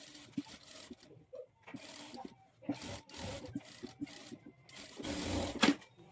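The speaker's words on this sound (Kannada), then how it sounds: "ನೀಟಾಗಿ ಈ ರೀತಿ ಸರಿಸ್ಕೊಂಡು ಸ್ಟಿಚ್ ಮಾಡ್ಕೊಳ್ಳಿ." A sewing machine stitches lining onto blouse fabric in short, close-up runs of rapid needle chatter separated by brief pauses, fairly quiet, with the last burst the loudest.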